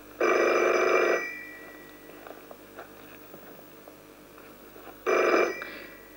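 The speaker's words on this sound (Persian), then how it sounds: "تلفن" An old telephone bell rings loudly in a long burst, followed by a quiet room with faint rustling, then rings again in a shorter burst.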